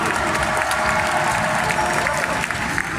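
Sustained applause with some crowd noise from an audience at a gaming contest during a prize announcement at the Made in Asia 2019 convention, steady and dense for the whole stretch.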